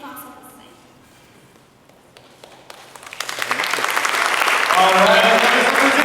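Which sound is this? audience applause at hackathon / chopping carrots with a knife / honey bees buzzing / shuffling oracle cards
audience applause at hackathon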